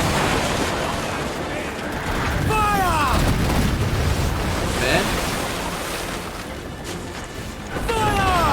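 Deep booming ship cannon blasts in Assassin's Creed Black Flag roll out over a constant wash of surf-like noise, with whistling streaks after several shots.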